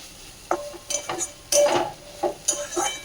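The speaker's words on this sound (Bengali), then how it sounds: "আর একটু হালকা নাড়াচাড়া করে নিলাম" Vegetables, including beetroot, are stirred in a covered pan, with a series of short scraping and clinking strokes of a utensil against the pan, fairly close and moderately loud.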